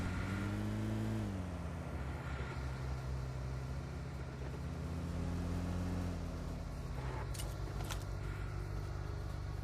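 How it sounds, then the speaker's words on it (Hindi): A Dacia car engine in the PUBG Mobile video game, a low droning rumble that rises and falls as the vehicle moves nearby, with a couple of short sharp bursts near the end. "मेरे को साइड से एक डासा की साउंड आती है"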